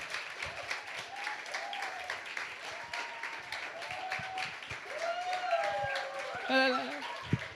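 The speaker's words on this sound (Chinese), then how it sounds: "邀请大家用最热烈的掌声" A church congregation at a Sunday service applauds warmly, a steady crowd clapping under a voice talking with chirpy, rising inflections, building slightly louder toward the end.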